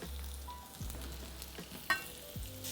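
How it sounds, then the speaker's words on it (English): Butter hits a hot pan and sizzles quietly, a soft steady frying hiss with a few faint clicks of a utensil against the pan. "Now I'm gonna add the butter."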